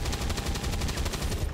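Rapid automatic gunfire from the XCOM 2 video game, a fast continuous burst of shots with a regular rattling rhythm, loud and alone with no talk.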